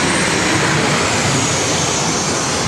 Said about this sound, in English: Qantas 737 just flew overhead there